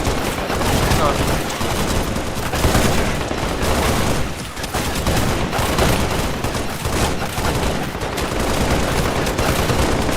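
Sustained gunfire from the Halo video game, with dense continuous bursts and rattling shots filling the whole stretch at steady, loud volume.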